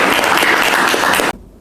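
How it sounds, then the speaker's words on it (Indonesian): Dense applause from a lecture audience at a polytechnic teaching session, a steady loud wash of many hands clapping that cuts off abruptly, leaving near silence. "Tepuk tangan."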